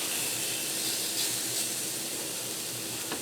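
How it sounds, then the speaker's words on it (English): Steady, dense sizzling hiss of chicken frying on a Ninja Foodi XL electric smart grill, continuous and fairly close, with a faint low hum underneath. "You hear that nice sizzle you get."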